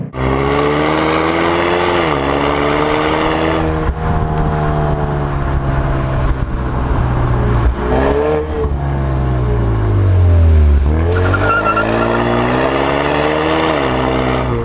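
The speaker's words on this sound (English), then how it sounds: "let you listen to what the car sounds like under" A turbocharged Ford EcoBoost car engine pulls hard through the gears under load on a racetrack, its exhaust droning loudly and rising and falling in pitch with each shift, close and continuous.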